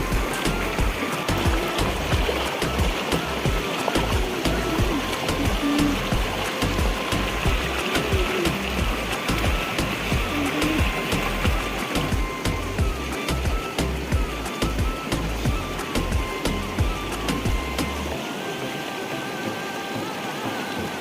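A river swollen and muddy after rain rushes steadily past, a dense continuous wash of flowing water that stays loud and unbroken throughout, with no voices over it.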